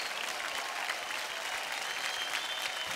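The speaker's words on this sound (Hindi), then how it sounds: "एक बार जोरदार तालियां हो जाएं।" A television dance show audience gives loud applause for a wild card contestant: a thick, even wash of clapping that continues without a break from start to finish.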